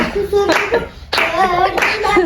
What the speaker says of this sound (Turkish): Alkışlasana dede